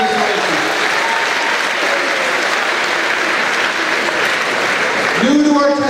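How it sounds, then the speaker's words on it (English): A school audience at a freshman orientation breaks into steady, loud applause that fills the room, dense clapping holding evenly for several seconds before a voice begins speaking near the end. "nice round of applause for Mr. Reinke"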